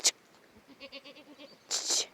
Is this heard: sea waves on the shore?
no